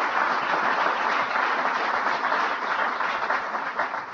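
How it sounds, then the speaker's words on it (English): A large audience at a speaking event applauds a group of scholars with a steady, dense wash of clapping that holds evenly throughout and tapers only slightly at the end. "You could give these scholars a big round of applause because they sure do deserve it."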